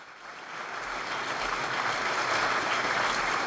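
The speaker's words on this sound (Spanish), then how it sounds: "El aplauso de la sala" Sustained applause filling a hall after a papal address to authorities in Dublin, a dense, steady wash of many hands clapping that swells slightly and holds, with no voices over it.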